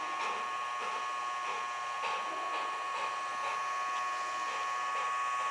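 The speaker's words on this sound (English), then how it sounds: "I'm just going to start by holding his paw while the Dremel is on" A Dremel rotary tool runs near a dog's paw, a steady high-pitched whine held close and continuous with faint pulsing, alone without talk.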